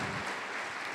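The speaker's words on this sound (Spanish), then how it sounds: "Den un aplauso al Señor por eso." A church congregation claps during a service, a dense, steady wash of applause from many hands filling the whole moment with no voices over it.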